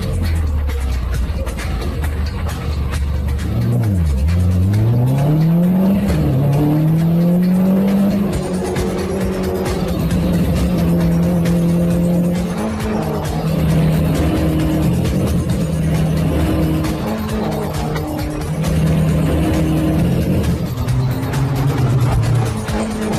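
Race car driving a lap of the track with Mini Cooper engines, loud engine tone climbing and falling through gear changes, with a swooping pitch dip as the car spins out of control, continuous and close.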